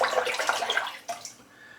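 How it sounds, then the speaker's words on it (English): Running water rinsing a safety razor, a close, bright splashing rush that flows steadily, briefly surges, then thins out toward the end. "I'm just rinsing that out"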